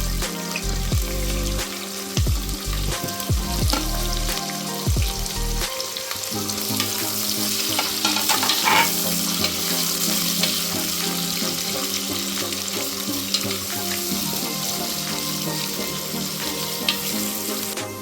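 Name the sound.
onion frying in a pan for mushroom biryani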